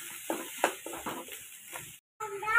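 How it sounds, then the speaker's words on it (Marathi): Masala paste sizzles and is stirred in hot oil in a pan, a soft, close, scraping fry with short bursts of stirring. "आपण तेलामध्ये वाटण सगळं परतून घेऊया"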